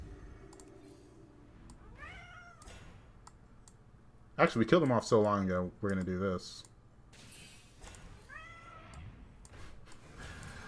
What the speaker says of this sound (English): let me get my cat. He wants some attention.